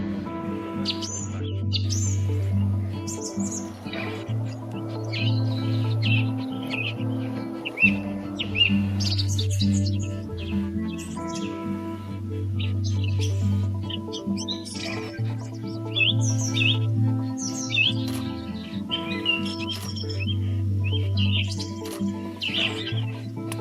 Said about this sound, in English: The ribbon-tailed Astrapia, Astrapia majestic, is one of the most visually spectacular members of the bird of paradise family